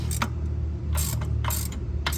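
Ratchet wrench fitted with a 13/16 spark plug socket working on a gas EZGO golf cart engine, giving several bursts of quick, close, dry clicking over a low steady hum.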